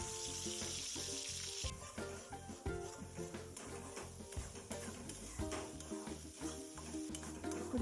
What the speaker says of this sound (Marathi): तेल जे आहे ते व्यवस्थित तापलेलं आहे आणि जे म्हणजे मसाल्याचं वाटण होतं ते आपण व्यवस्थित आता परतून घेऊया